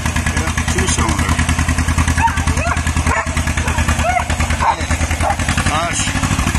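A 1960 John Deere two-cylinder bulldozer engine runs steadily close by with a rough, thumping idle and some clatter, while voices talk over it.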